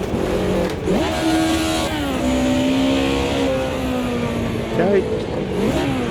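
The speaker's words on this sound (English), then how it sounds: "Celebratory donuts." Simulated car engine in Automobilista 2 on a wet track, revving steadily with rising and falling pitch as the car spins through donuts, loud and continuous, with someone speaking briefly over it.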